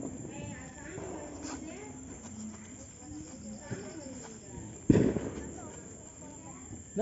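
A 1000 wala firecracker string set on a road pops in quick crackling bursts, with one sharper louder cluster, heard at a distance under a person talking.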